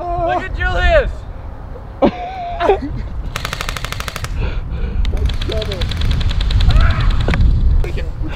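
Rapid bursts of airsoft gunfire crackle through a backyard capture the flag game, two long rattling volleys mid-clip amid excited shouting voices and outdoor noise.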